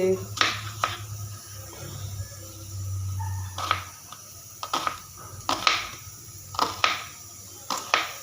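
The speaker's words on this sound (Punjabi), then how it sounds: "ਸੋ ਹੁਣ ਆਪਾਂ ਪਿਆਜ਼ ਵੀ ਕੱਟ ਲੈਣੇ ਆ" Sharp knife strikes on a cutting board as onions are chopped for chana chaat, a string of crisp irregular chops, a few at a time with short pauses, while a low hum runs beneath during the first half.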